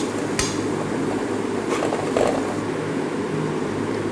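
A spoon scrapes and clatters against a cooking pot while tomato paste masala is stirred for a Kerala-style beef curry, with a few sharp metallic knocks over a steady low background hum.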